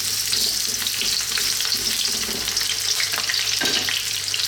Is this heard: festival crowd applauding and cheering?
no